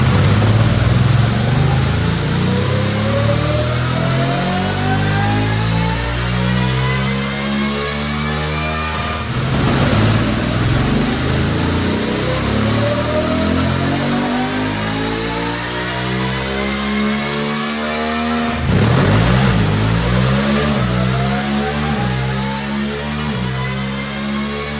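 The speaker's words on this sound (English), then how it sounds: "I have the 750 strapped to the dyno right now, ready to make some pulls here" A BMW F 750 GS motorcycle engine on a dyno, loud and close, revving up in long rising pulls with two breaks where it drops off and climbs again, no talking.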